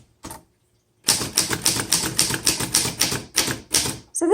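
A 1928 Underwood 4 Bank antique typewriter in excellent mechanical condition clacks through a steady run of sharp keystrikes, loud and close, after a brief silent pause, ending with a metallic carriage or shift sound.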